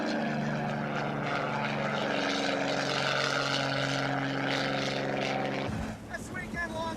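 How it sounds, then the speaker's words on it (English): Chipmunk 2 stunt plane flown at an experimental airshow, its propeller engine droning loudly and steadily with a strong low hum, then cutting off abruptly near the end. "this is the great Art Scholl, and that's his sensational stunt plane, the Chipmunk 2."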